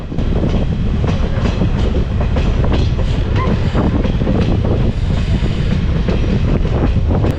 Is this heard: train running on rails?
yes